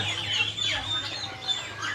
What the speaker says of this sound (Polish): jaki ładny ten czarny kogut